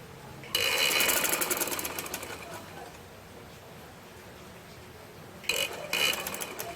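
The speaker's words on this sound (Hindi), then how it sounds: "इसी तरह मैं सारी सिलाई लगा लूँगी।" An electric sewing machine stitches fabric for an umbrella frock, with a fast, whirring run of needle clatter for about two seconds, then a pause and two brief further bursts, close by.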